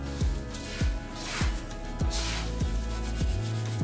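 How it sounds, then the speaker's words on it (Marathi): Hands rub puffed rice together with a mint and coriander mixture, making a close, dry rustling scrape repeated in steady strokes about every half second. "हे मिश्रण आहे ना सर्व कुरमुऱ्यांना चोळून घ्यायचं."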